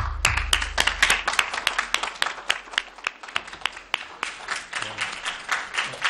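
Dense, steady applause from a large audience at a judicial hearing, many hands clapping at once with sharp individual claps standing out, sustained throughout.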